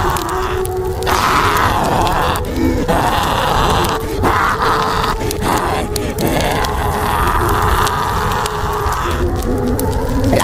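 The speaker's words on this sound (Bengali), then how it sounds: "সেই পিশাচের চিৎকারে জঙ্গল কেঁপে উঠছে।" A demon in a horror animation shrieks and groans while burning in a haunted forest, a loud, unbroken wall of roaring, distorted cries that continues for the whole stretch.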